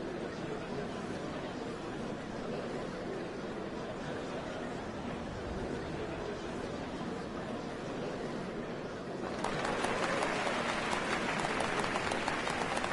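A large crowd cheers and applauds in a video game scene, a steady dense wash of clapping and chatter that swells louder toward the end.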